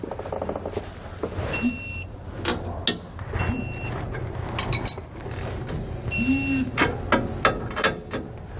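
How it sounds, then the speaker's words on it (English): Ratcheting wrench clicks in short bursts while torquing the mounting hardware of a Roadmaster Reflex steering stabilizer on a 2020 Ford F-53 chassis, with metallic clanks between the runs, nearby and moderately loud. "We can then go back and torque all of our hardware to the specifications found in our instructions."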